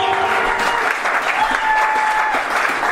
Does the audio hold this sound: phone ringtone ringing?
no